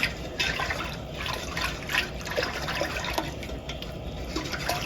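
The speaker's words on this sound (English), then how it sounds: "we've got this up to a full rolling boil" A sweet tea jelly mixture with lemon juice bubbles at a rolling boil in a pot, a steady close churning and gurgling sound without any speech.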